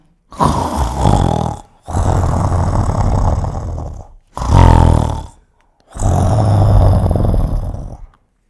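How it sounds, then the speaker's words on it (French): Loud, rough snoring in four long breaths separated by short pauses, close and heavy with a deep rumbling rasp. "ronflait ronflait, mais ronflait aussi fort qu'un éléphant de mer"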